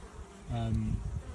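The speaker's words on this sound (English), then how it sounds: "a happy hum of bees" A close, buzzing hum of honey bees rises and wavers for about a second over a low background drone.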